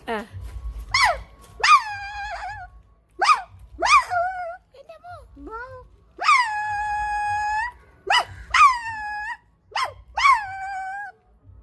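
A person imitates a dog, producing a series of sharp bark-like yelps and a few whimpering and growling tones in irregular bursts, close to the microphone.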